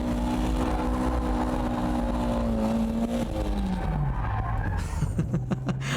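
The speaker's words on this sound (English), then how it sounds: "With these underpowered cars, you just have to keep the gas on to get it into power drift mode." An underpowered car power-drifts with the throttle held open, the engine drone sliding downward beneath a continuous loud tire skid, then broken squeals and bursts as power is cut.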